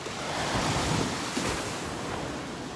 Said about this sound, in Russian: Уже прям волны бьют под обрыв мой.